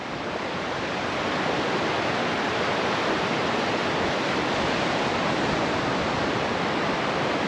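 Continuous heavy roar of a fast-flowing swollen river in Nepal, even and unbroken, close by and loud throughout with no voices.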